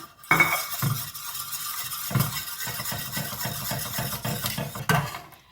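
A spoon stirs and scrapes through palm jaggery syrup in a pot, with repeated clinks against the metal rim at a steady rhythm, close and fairly quiet.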